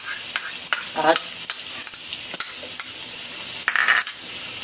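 Garlic dropped into a pan of frying chicken, a loud continuous sizzle punctuated by clicks and scrapes of a utensil stirring against the pan.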